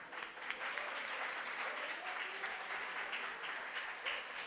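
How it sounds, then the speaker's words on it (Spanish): A church congregation at Iglesia Puerta de Esperanza gives a warm round of applause, a steady wash of many hands clapping at a distance, faint and even throughout. "La Iglesia Puerta de Esperanza los saluda con un caluroso aplauso."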